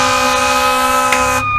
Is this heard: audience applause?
no